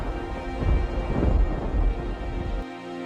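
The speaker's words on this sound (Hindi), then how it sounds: "ये बारिश बढ़ती जा रही है" Heavy rain pours during a storm, a dense roar of falling water with a deep rumble of thunder rolling through, loud and close, then cutting off abruptly near the end.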